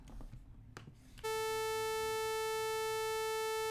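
Low murmur of room noise, then an abrupt non-band-limited sawtooth synth tone at 440 Hz starts and holds steady and loud, harsh and buzzy with dense upper harmonics reaching the top of the range.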